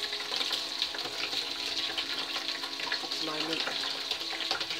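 Food being rinsed in a sieve under a running kitchen tap, a continuous splashing hiss of water with a brief spoken remark over it.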